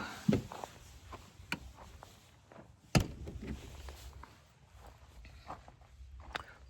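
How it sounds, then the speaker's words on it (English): Doors on a van being fitted out are opened during a build, with a sharp latch clunk near the start and another bang about three seconds in, followed by quieter rattles and shuffling. "Let me open these doors up."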